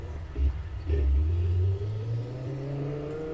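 Lamborghini Sesto Elemento engine in the rFactor racing game, a steady mid-pitched drone that swells briefly as it revs, then settles into a sustained hum.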